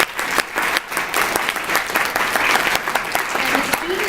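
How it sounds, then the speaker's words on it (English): Applause from an audience at a downtown campus theatre event, lively clapping with distinct sharp claps and scattered cheers, continuing strongly; a voice briefly speaks near the end. "I can give them a round of applause for their efforts."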